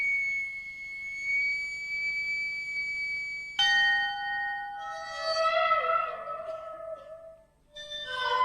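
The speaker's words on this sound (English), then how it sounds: "And a ship's bell way underneath the ocean." A ship's bell heard underwater gives sustained ringing tones that shift and waver, with resonant overtones blurring together in a hollow, distant wash.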